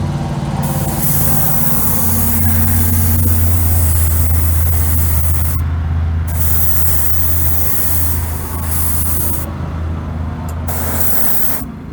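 Repeated bursts of airbrush spray hiss, starting and stopping several times over a constant low compressor drone.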